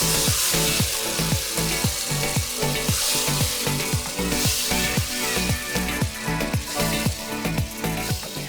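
Loud, dense sizzling and bubbling of tomato puree sautéing in a pan, with a regular rhythmic scraping of stirring throughout.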